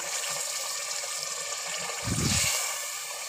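Water being poured into a simmering fish curry, a brief low splash and gush partway through over a steady background hiss.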